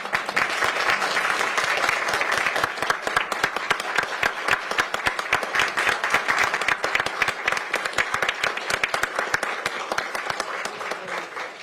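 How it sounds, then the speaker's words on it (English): A room of attendees at a Pierce County Council meeting applauding steadily for nearly twelve seconds, a dense, even spatter of many hands clapping that eases slightly toward the end. "let's give him another round of applause"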